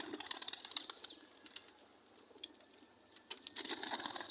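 Pigeons being released flap their wings in quick fluttering bursts, with soft patters and a few bird calls, close and fairly faint.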